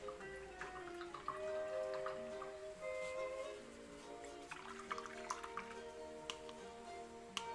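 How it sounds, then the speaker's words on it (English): A paintbrush swished and rinsed in a cup of water during a painting session gives faint drips and squishy splashes, quiet beneath soft background music. "I'm gonna rinse my brush out."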